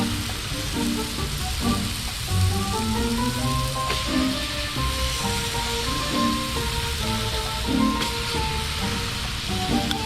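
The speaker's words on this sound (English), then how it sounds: "I'm sure you guys can hear the sizzle." Barbecue chicken sizzles on a Magma grill on a boat, a loud, steady frying hiss close up, with some tonal ringing and clinks in the background and no speech.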